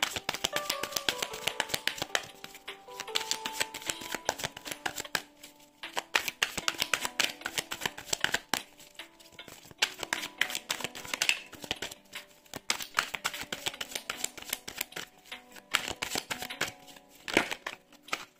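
Witches' tarot cards are shuffled by hand in a long run of quick, crisp riffling and flicking bursts, close and fairly soft, with short pauses between shuffles.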